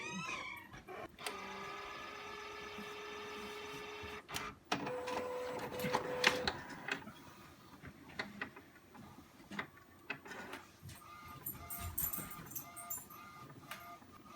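An Epson P600 inkjet photo printer whirs and clicks through a job, with motor runs, sharp mechanical ticks and paper-feed sounds, fairly close and without talk.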